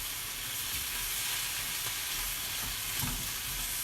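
Pork and vegetables stir-frying in a pan for pork bokkum give a steady, close, dense sizzle that holds evenly throughout, with a few soft stirring bumps and no voices.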